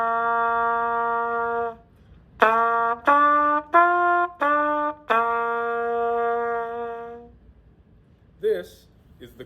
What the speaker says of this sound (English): and then you get a sound like this.